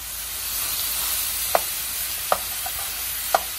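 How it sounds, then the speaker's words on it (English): Mushrooms with spices, lemon and pepper sauté in a hot pan with a steady soft sizzle, broken by a few faint scraping stirs of a utensil. "And saute them nicely."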